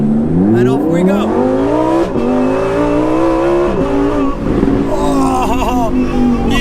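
Lamborghini Huracan EVO RWD Spyder in Corsa mode accelerates hard along a narrow Italian countryside road, its engine note climbing steadily through the gears with brief dips at shifts, loud and close throughout, with people talking over it.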